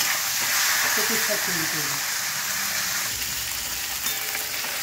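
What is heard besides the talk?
hilsa fish heads frying in oil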